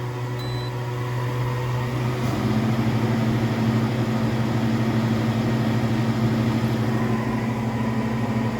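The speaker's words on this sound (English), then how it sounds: "Turn on the air conditioner." A window air conditioner installed in a pop-up camping trailer runs with a loud, steady mechanical hum and droning whir. Its pitch shifts slightly a couple of seconds in as the unit settles into a constant tone.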